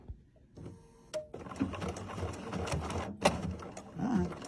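A Bernina sewing machine with foot 74 stitches a number 2 zigzag over lace, giving a close, soft, continuous mechanical whirr with small rhythmic clicks, briefly starting and stopping at first before running steadily.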